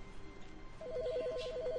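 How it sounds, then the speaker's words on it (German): A telephone ringing in the video game The Stanley Parable starts partway through as a faint, rapid electronic trill that alternates between two tones over a low background hum. "Oh, was? Telefon?"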